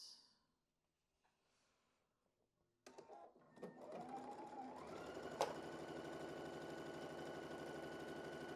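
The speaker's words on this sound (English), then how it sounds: "And now we're going to sew this piece to this one." A sewing machine joins quilt pieces, starting up after a quiet pause and then running at a steady, rapid whirring stitch close by, with a brief sharp click partway through.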